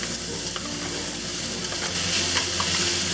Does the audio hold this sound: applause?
no